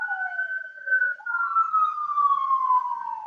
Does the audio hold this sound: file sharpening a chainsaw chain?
no